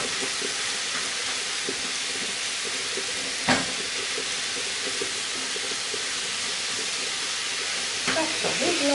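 Mushroom and meat filling stewing in a pan, a steady soft sizzle and bubble as excess liquid cooks off, continuous and close with a brief clatter partway through.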